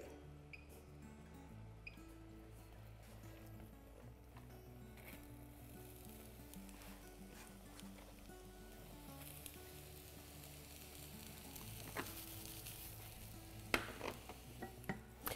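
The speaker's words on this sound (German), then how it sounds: "nehmen wir da wieder Olivenöl, erhitzen es, werden den Lauch darin anbraten" Quiet, steady sizzling of leek frying in olive oil in a pan, with a soft continuous crackle and a few small ticks and scrapes near the end.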